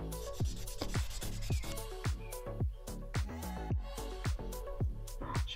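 A fingernail is buffed with a nail file to remove old product, leaving white dust. The rubbing strokes are close, fast and rhythmic, rasping steadily over a continuous tonal background, with no talking.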